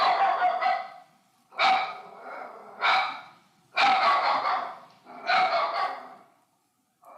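Dog barking as a radio drama sound effect: a series of five or six loud, close, breathy barks and yelps in irregular bursts with short pauses between, heard alone without talk.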